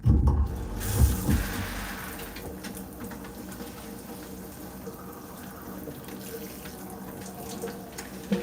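Tap water runs steadily into a sink while curly hair is wetted, a continuous close splashing rush that starts with a louder burst and then settles into an even flow.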